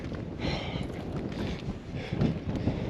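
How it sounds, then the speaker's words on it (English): Wind gusts buffet the microphone on a rocky hilltop in Picture Canyon, a steady low rumble with stronger surges, close and fairly loud, with no talk. "It's a little windy up here"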